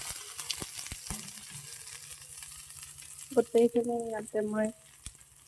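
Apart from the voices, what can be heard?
frying onion, chilli and vegetables in hot oil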